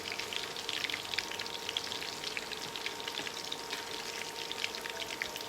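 Rojak fritters fry in hot oil with no turmeric or salt added, a steady crackling sizzle with scattered sharp pops, close and continuous.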